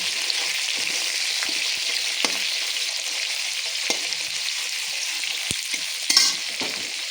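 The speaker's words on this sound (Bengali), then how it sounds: "পেঁয়াজটা ভাজা করব। পেঁয়াজটা দিয়ে দিলাম, পেঁয়াজটা ভেজে" Chopped onion frying in oil, a steady bright crackling sizzle with occasional stirring clicks and one louder burst near the end, heard up close without talk.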